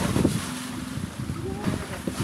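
Steady wind roars across the microphone over the low wash of water and a running boat, a constant rough blustery noise throughout.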